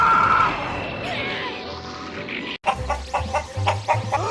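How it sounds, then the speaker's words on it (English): Chicken clucking in the Gundam Breaker video game, a run of short, bright clucks with thuds and impacts underneath, coming after a louder crash-like burst at the start. "Chicken! Pet the chicken!"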